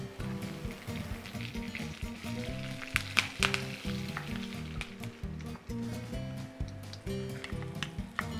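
Curry leaves crackle in hot oil during tempering with jeera and hing, a steady sizzle with frequent sharp pops throughout, close and fairly loud, accompanied by stirring and background music.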